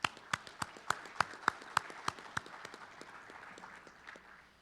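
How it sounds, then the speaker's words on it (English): Sparse clapping at a meeting, sharp individual claps in an irregular rhythm that thin out and fade, rather faint and distant. "let's give them a round of applause"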